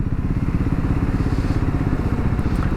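A Triumph Scrambler 400X motorcycle rumbling along through city traffic, its engine a loud, steady, throbbing pulse heard close up without a break.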